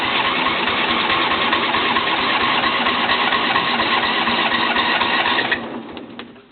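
A John Deere L120 lawn tractor engine, cold with the choke on, cranks in a steady, fast, loud chugging rhythm for about five and a half seconds before cutting out and fading.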